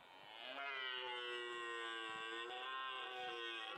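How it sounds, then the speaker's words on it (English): A red deer stag's roar: one long, sustained bellowing call with a strong harmonic, moaning tone that holds steady for several seconds, clear and fairly close, with no one talking. "And then the red roar."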